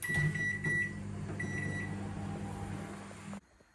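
A microwave oven runs with a steady mechanical hum and faint whir, then cuts off abruptly near the end.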